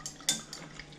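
Bourbon splashes over ice in a glass, giving a brief clink of cubes and a short pour with small drips, close and fairly quiet.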